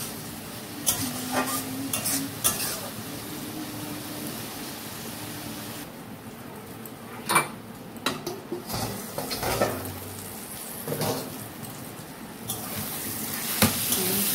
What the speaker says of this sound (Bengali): এবার ভেজে রাখা আলুগুলো আমি দেব। ভালো করে নেড়ে চেড়ে ঢেকে রাখতে হবে কিছুক্ষণ, মশলাটা কষা হওয়া পর্যন্ত।